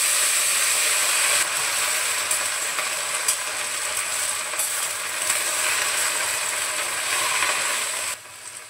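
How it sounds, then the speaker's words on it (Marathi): Cowpea vegetable going into a hot cooking pan, a steady loud sizzling hiss with small clicks and crackles, easing slightly toward the end. "आणि आता थोडी थोडी करून भाजी टाकते"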